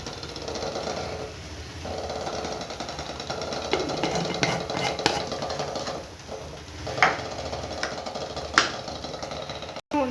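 A dosa cooks on a hot pan, giving soft sizzling and crackling with scattered sharp ticks and scrapes at close range, alongside faint kitchen noise and no speech.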